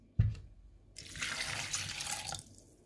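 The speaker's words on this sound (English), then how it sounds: "I will be adding 1 cup of water to it." A cup of water pours into a blender jar holding lemons, opening with a thud as the container is set down, followed by a steady close splashing stream lasting about a second and a half that then stops.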